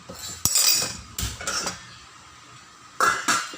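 A metal lid clatters onto a pot of sinigang, milkfish sour soup, with a few sharp clinks and knocks, close by, separated by short quiet gaps.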